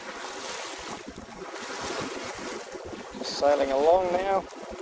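A sailboat under way in a fair wind, with steady wind rush and wave wash around the hull, a voice talking over the noise and a brief tonal warble near the end.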